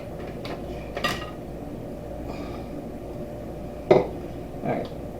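Chopped walnuts are stirred and shifted around in a pan. A few light scraping clatters land near the start, then a sharper clink near the end, all over a steady low kitchen hum with no talking.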